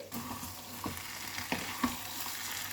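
Potato bhaji sizzling steadily in a pan for a restaurant-style veg thali, a continuous frying hiss broken by a few soft stirring clinks and scrapes, close and moderately loud with no talk.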